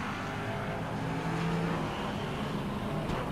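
Stock cars racing on a bumpy track at a 1999 Auckland teams championship, heard as a steady, dense engine roar from a distance with no clear individual pass-bys.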